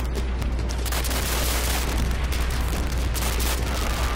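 Continuous loud, dense booming fills the whole clip: bazooka shots and explosions hitting tanks in the Call of Duty: World at War level Hard Landing, one blast running into the next with no pause.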